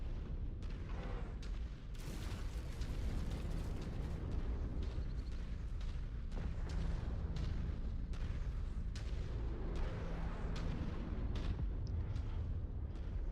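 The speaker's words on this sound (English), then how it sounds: "got one more airstrike to drop too" Airstrike explosions in the MechWarrior 5 mech combat game, a dense barrage of heavy booms and blasts rumbling continuously at a loud, sustained level, with no speech.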